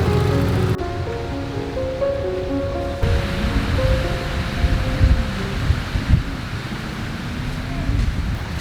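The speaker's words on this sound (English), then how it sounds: "So this is a really famous beach here." Ocean waves breaking on a famous beach along Mexico's southern Oaxaca coast, a continuous loud surf roar with some wind on the microphone and faint voices at times.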